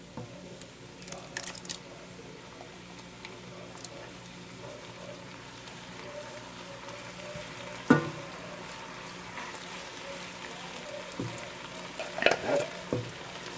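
Hunt's diced tomatoes sizzle quietly in chunky spaghetti sauce, a soft steady frying hiss with a few clinks and stirring knocks near the end.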